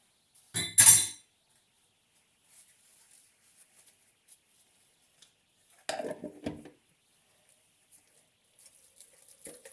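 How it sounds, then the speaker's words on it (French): A utensil stirs energy cake batter with dried fruits in a bowl: one loud clink near the start, then a short cluster of scraping clinks after a long quiet pause. "Il faut bien mélanger."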